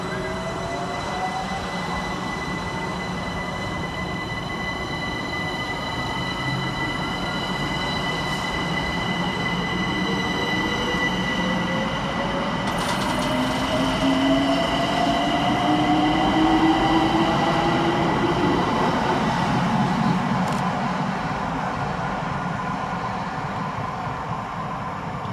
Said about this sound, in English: Next up for departure is 378140 with the 1431 London Overground service from Dalston Junction to New Cross